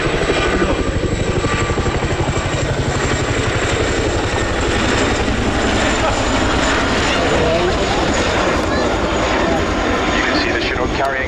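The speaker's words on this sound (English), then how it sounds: "please turn your eyes to the sky for the 2024 Chinook roll demonstration" A Chinook helicopter flying its 2024 roll demonstration at the RAF Cosford airshow gives a loud, rapid twin-rotor thudding beat that pulses steadily throughout, with announcer talk over it.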